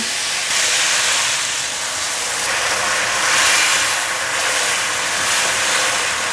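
Sauce poured over softened tomatoes in a hot pan, with king oyster mushrooms to follow, gives a loud, continuous sizzle and steamy hiss that swells and eases as it cooks, heard close with no talking.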